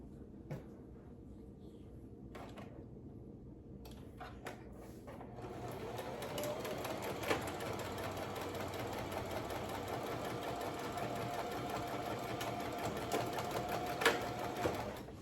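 A sewing machine stitches tote bag pieces with white thread, starting after a few quiet clicks and handling noises and then running steadily and evenly for about ten seconds, close by.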